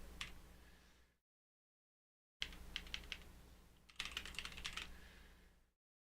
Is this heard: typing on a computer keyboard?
yes